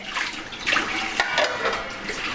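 Water runs from a tap while a plate and bowl are washed, a continuous splashing stream with small clinks and surges, close by.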